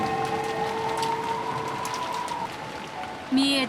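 Rain and wind fall in the visual novel Umineko, a steady patter of raindrops over a low whoosh with faint tonal music running beneath, ending on a brief brighter chime.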